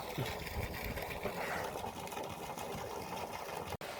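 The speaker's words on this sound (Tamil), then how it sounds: "நாலு புள்ளி மூணு ஆம்ஸில் மோட்டார் ரன் ஆகிட்டு இருக்கு" A 3000W BLDC borewell pump motor runs steadily, drawing water from a 650-foot bore, giving a continuous even hum and whir with a brief dropout near the end.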